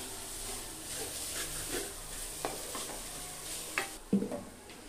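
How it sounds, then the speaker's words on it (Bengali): Grated coconut stirred in a hot wok over a low flame for a sweet coconut filling, a faint continuous sizzle with soft scraping strokes and a few louder clinks of the utensil near the end. "তো নারকেলটা দিয়ে এবার একটু এভাবে নেড়ে চেড়ে দিতে হবে।"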